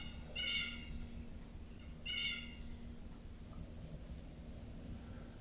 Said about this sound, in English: Big flock of turkeys.